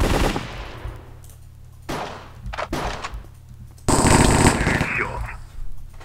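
Bursts of rapid P90 submachine gun fire in the blocky Minecraft-style shooter MineStrike, loud automatic volleys separated by short pauses, with faint talk in the background.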